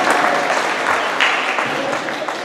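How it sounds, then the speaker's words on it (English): A crowd claps steadily in continuous applause, loud and sustained, with no clear voices above it. "I want to thank each and every one of you with a round of applause."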